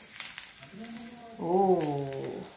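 Fried shallots stirred into hot used frying oil for Aceh-style sambal ganjo give a faint, steady sizzle, with a person's voice talking over it partway through.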